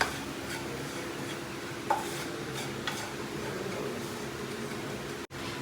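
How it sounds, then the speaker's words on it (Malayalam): A garam masala mixture is stirred in a hot pan, with soft scraping strokes and occasional light clinks over a faint, even sizzle, heard close and quiet. "ഇത് നല്ലോണം പച്ചമണം പോകുന്നവരെ ഇളക്കുക"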